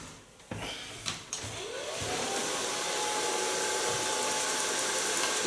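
A hair dryer whirs up after a few clicks and handling noises, then blows in a steady, moderately loud hiss while drying short, freshly washed hair.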